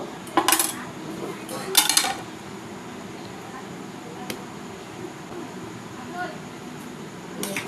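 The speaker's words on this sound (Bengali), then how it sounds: "এবার আমি এক একটা করে নামিয়ে নেব বলগুলোকে একটা প্লেটে নামিয়ে নেব" Sweet balls boiled in cardamom syrup water are lifted from a pot onto a plate, giving two bright metallic clinks of a utensil early on, then faint scraping and a soft tap over a low kitchen background.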